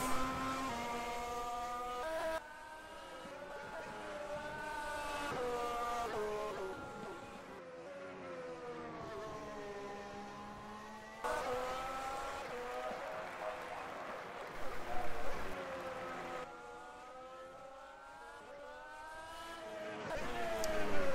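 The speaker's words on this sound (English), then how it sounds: "my voice can barely be heard over the engine" Formula 1 race car engine in a video game at the Hungarian Grand Prix, rising and falling through gear changes with high whining revs, a commentator's voice faint underneath.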